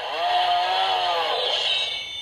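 Power Rangers Ninja Master Blade toy sound chip: a buzzy synthetic chainsaw roar that swells and dips, then gives way to a bright, ringing metallic tone like a sword clash, loud and alone.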